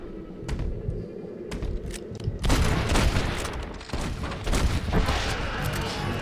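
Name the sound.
sniper rifle shots in the video game Red Dead Redemption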